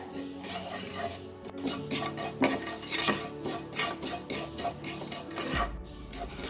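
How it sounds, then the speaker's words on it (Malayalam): Cumin seeds being sautéed in a pan until brown, a steady low crackle with scraping and clinking of a spoon against the pan throughout, fairly close and without speech. "ഇതൊന്ന് ബ്രൗൺ കളർ ആവുന്ന വരെ ഒന്ന് വഴറ്റി കൊടുക്കുക."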